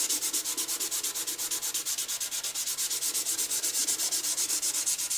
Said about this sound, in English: I'm just going to try sanding this a little bit right here